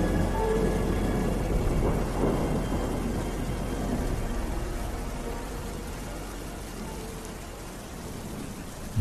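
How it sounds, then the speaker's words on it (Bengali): Heavy, steady rain pours down with a rolling thunder rumble, used as a sound effect in a horror story. The downpour is close and dense, hissing without a break, and no voice is heard. "আজ এই মুষলধারায় বৃষ্টি অসহ্য লাগছে আমার"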